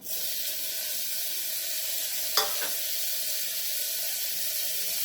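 Tomatoes being fried and stirred in a pan with onions, a steady close hiss of sizzling throughout with one brief scrape of the spoon near the middle, no talking.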